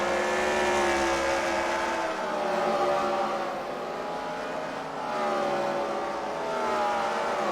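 Race cars at a CWRL Fight Night event at The Freedom Factory, including traffic jammer cars, roar around the track in a continuous loud engine drone that rises and falls in pitch as they pass.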